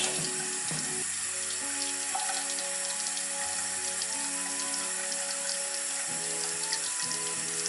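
Tap water runs steadily into a sink while a makeup brush is rinsed under the stream, a continuous close splashing hiss with small shifts in tone as the brush moves.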